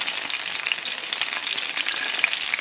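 Fish frying in hot grease in an iron skillet over an outdoor fire, giving a steady bright sizzling crackle with small pops, close and continuous with no voices.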